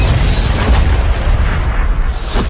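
A film missile launch and explosion: a dense, loud low-end roar of blast rumble sustained across the whole moment, with a slight swell near the end and no voices.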